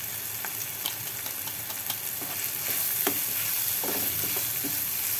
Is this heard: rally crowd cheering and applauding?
no